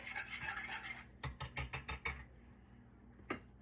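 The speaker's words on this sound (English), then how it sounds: "I'm going to give it one more whisk." A whisk scrapes rhythmically against a pan of slowly bubbling sauce, six quick close strokes in a row, with a fainter clatter of utensils before and a single knock near the end.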